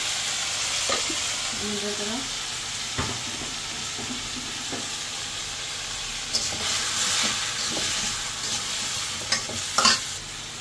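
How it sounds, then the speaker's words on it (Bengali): Green chili paste sizzles in a hot pan while being stirred, with a continuous hissing fry, scattered spoon scrapes, and a brief faint voice in the background. "কাঁচামরিচ বাটা দিয়ে দিলাম।"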